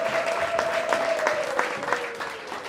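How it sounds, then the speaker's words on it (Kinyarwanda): A church congregation claps together during a sermon, a steady rhythmic round of applause with about seven even beats, a sustained voice tone running beneath the clapping. "Clap for your Lord."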